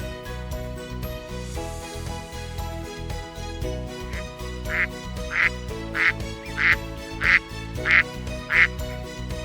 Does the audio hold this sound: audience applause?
no